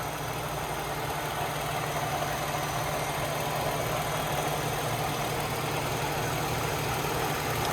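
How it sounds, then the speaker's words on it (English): A 2009 Toyota Sienna minivan engine with 104,000 miles idles steadily at close range under an open hood, a smooth continuous low hum and rumble with no voices. "this engine runs nice and smooth"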